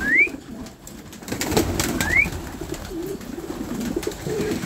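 Homing pigeons coo in a loft in low, rolling repeated calls close by, with a couple of short bright chirps from another bird over faint background rustle.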